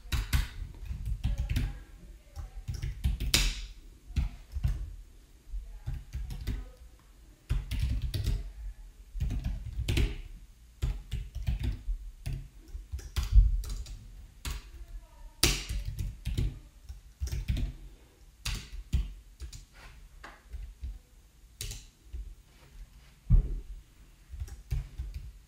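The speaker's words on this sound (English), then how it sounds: "We'll just type it in really fast." Rapid typing on a computer keyboard, close and loud, with bursts of clattering keystrokes separated by short pauses over about twenty-five seconds.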